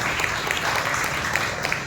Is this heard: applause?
yes